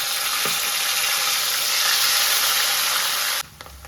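Ground onion frying in a pan with roasted spices over a medium gas flame, for stuffed tinda masala: a dense, steady sizzle and hiss that runs loud for about three and a half seconds, then suddenly drops away.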